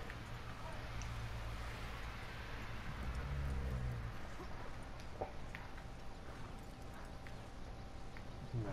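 Horse hooves clip-clopping on the ground at a steady pace, moderately close, with faint background ambience and occasional small knocks.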